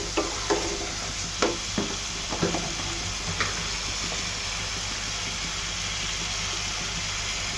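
Turmeric and chili powder being stirred and sautéed in a pan, a low steady sizzle with a run of sharp spatula scrapes and taps early on that fade into quieter frying.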